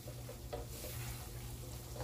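Onions frying in butter while being stirred, a soft continuous sizzle with faint scraping strokes of the utensil, quiet and close.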